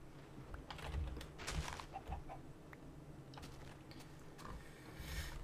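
Chickens cluck in short scattered bursts through a Tekkit-modded Minecraft world, moderately close over a low steady background hum, with a few sharp clicks in between.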